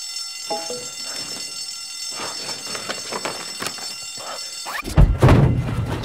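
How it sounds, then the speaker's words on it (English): A fire alarm going off during a break-in, a steady high electronic tone over thuds and shuffling, ending in a loud burst of rumbling noise. "they tripped the fire alarm"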